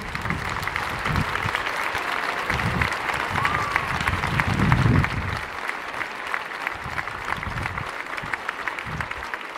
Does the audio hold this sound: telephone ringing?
no